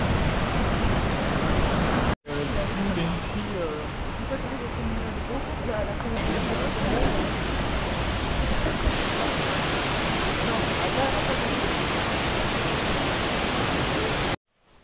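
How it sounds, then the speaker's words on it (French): Cascade des Galets on Réunion roars as a constant, dense rush of falling water, loud and steady from start to finish, with a brief cut near the beginning and no voices. "Voilà, la cascade des Galets."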